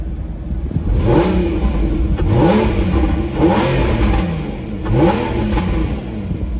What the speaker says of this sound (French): on va maintenant profiter du son du moteur